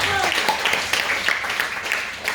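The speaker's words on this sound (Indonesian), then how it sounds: "Tepuk tangan buat Tuhan kita." A brief burst of applause rises from a congregation during a Chinese New Year church service, a dense, even patter of many hands lasting a couple of seconds.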